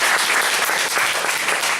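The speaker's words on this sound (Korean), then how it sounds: "그 강희 자매 좀 이렇게 격려의 박수를 좀 드리겠습니다" Steady, dense applause from a church congregation offering encouragement, continuous and fairly loud throughout the short span.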